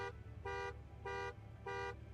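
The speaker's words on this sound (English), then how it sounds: "Sad honks, by the looks of it." A car horn honking in a racing video game, four evenly spaced short toots of a bright, buzzy electronic horn, moderately loud over a low background hum.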